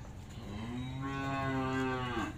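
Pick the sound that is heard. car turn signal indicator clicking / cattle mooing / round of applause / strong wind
cattle mooing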